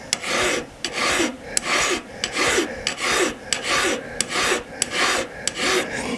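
A hand file strokes across metal at a goldsmith's training bench: about a dozen steady, close rasping passes in an even rhythm, each a loud gritty scrape easing off at the end, with no talk.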